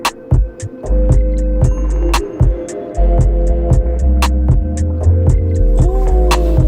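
A groovy R&B beat built from hair salon sounds: deep throbbing bass, crisp clicky percussion hits in a steady rhythm, and a smooth sliding melodic tone.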